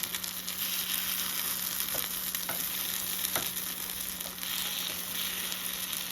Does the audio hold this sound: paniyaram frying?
yes